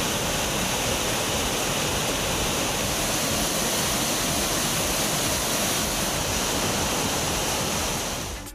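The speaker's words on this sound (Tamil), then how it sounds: "அருவியில் தண்ணீர் கொட்டுகிறது." Rain-swollen Aliyar Kavi waterfall near Pollachi and Anaimalai pours down in a dense, steady roar of rushing water, loud and continuous throughout without a break.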